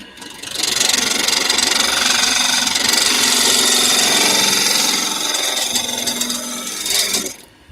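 Lathe chisel cutting spinning Chinese elm wood, a steady loud rasping scrape held for several seconds close by, easing off at the end.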